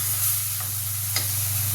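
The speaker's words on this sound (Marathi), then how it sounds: "हे चांगलं परतून घ्यायचं." Chutney, turmeric and chilli powder being sautéed in a pan, giving a steady low sizzle with a faint stirring scrape, constant and close with no talking.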